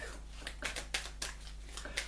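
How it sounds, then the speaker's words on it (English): A deck of Angel Oracle cards being shuffled by hand, with a series of soft, papery riffling bursts repeating roughly every quarter second over a low steady hum. "while I'm shuffling the Angel Oracle"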